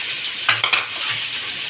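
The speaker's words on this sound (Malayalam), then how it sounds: "തക്കാളി ഇടാം." Tomatoes hit a hot pan of frying onions, giving a steady hiss of sizzling oil with a couple of brief stirring scrapes and soft clatters.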